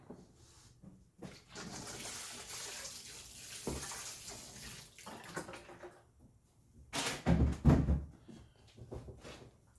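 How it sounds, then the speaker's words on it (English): Water pours into seed-starting soil in short bursts with splashing, a louder gush near the end, and quiet handling sounds between pours. "Then I'm gonna moisten the soil."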